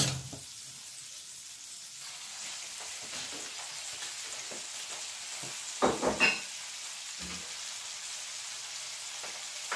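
Pancit noodles stir-fry in a pan with a steady, soft sizzle, broken by a few louder scraping stirs near the middle.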